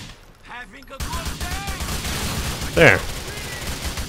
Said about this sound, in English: I'll just blind fire, might as well.